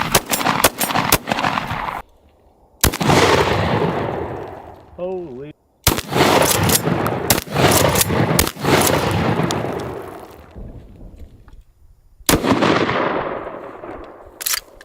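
A SPAS-12 shotgun fires in a video game, delivering loud sharp blasts in quick bursts with brief gaps and ringing tails, and a voice exclaims once amid the shots.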